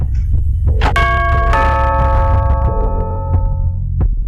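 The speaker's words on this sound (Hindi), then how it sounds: "घर की डोरबेल बजी।" A house doorbell chimes in a quiet home: two bright ringing tones, close and clear, each one decaying slowly over a low background rumble. No one speaks.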